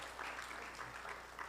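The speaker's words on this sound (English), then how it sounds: "Get a round of applause for my mama." An audience in a church applauds continuously, a faint, even wash of clapping that carries through without a break.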